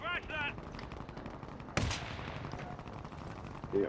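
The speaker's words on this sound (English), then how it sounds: "They're shooting at me." Enemy gunfire in a video game, heard as a rapid automatic burst followed by a sharp shot, then steady firing at a moderate distance under game noise, with a voice speaking now and then.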